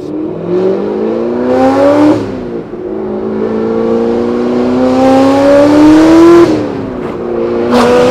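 A cammed, supercharged Corvette Grand Sport engine revs and pulls hard, its pitch climbing steadily through long sweeps with two quick blips between them, loud and close throughout with no talking.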